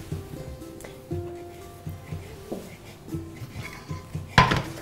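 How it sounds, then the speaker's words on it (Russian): A knife chopping fresh herbs on a cutting board in a home kitchen, with a steady series of soft, close knocks about once a second against faint background clatter, ending in a sharper clunk. "Я пока порежу зелень"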